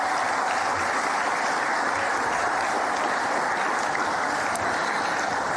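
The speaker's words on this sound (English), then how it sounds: "So maybe we could start with a round of applause for everyone in sport here." Sustained applause from an audience at the NT Sports Awards, a steady, dense wash of clapping that holds at an even level throughout without pause.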